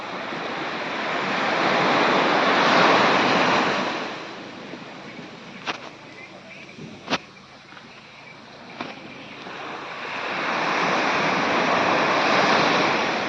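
Steady roar of ocean surf on Havelock beach in the Andamans, swelling and fading in long waves, with a few sharp clicks during a quieter lull in the middle.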